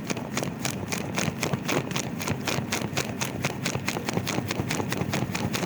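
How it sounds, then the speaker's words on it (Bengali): A helicopter engine runs with the main rotor spinning during startup, producing a close, rapid, even rhythmic thudding over a steady mechanical drone that continues throughout. "ইঞ্জিন চলা শুরু হয়ে গিয়েছে।"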